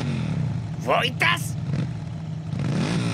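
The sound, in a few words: motorcycle engine revving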